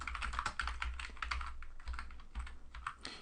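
Rapid typing on a computer keyboard, with steady, dense clicking of keys close up throughout and no voices.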